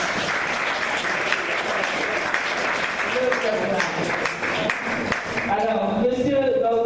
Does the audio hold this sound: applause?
yes